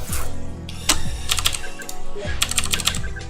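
Rapid clicking of a computer keyboard during a Perfect Dark gaming session, with bursts of keystrokes over a busy background of game music and sound effects.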